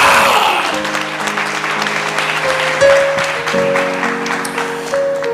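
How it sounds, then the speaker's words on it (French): A church congregation claps steadily in sustained applause during a sermon, with music or a held tone playing underneath. "temps d'applaudissements là"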